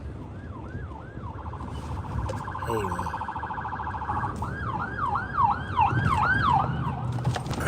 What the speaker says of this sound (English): Anytime you see an ambulance pass like that